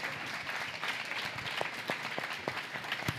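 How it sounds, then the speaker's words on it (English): Audience applause after a founders' presentation honoring a couple, a steady dense wash of many hands clapping with a few sharper nearby claps standing out, continuous throughout and without talk. "Please give one more round of applause"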